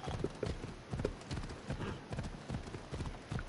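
Galloping horse hooves in an ancient Greek video game, a brisk repeating clip-clop pattern heard near and continuous, with a few faint higher tones mixed in.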